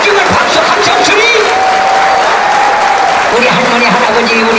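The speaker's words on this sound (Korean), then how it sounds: "마지막 박수 한번 쳐" Loud, dense crowd applause at a grape festival performance rolls on without a break, with voices and cheering mixed into the clapping.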